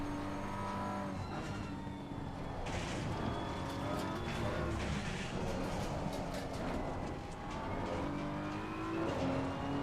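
A BMW race car in the racing video game GT Sport, its engine revving loudly and continuously with rising and falling pitch through gear changes, steady and close throughout.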